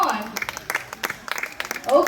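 A small audience claps for an owl named Bulan and its trainer Dawn at a zoo night safari show. Scattered, brief applause is mixed with a person talking at the start and end.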